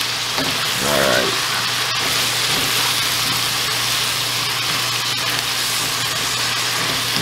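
Ackee, tomato and salt fish cook down in a pan with a constant crackling sizzle, a low steady hum underneath and a brief stir or clatter early on, without any talking.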